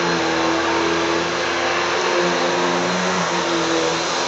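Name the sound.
vacuum cleaner running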